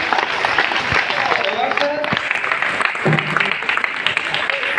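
Hall audience at a DXN seminar and anniversary event applauding a guest speaker, dense steady clapping throughout with voices and tonal sounds mixed in.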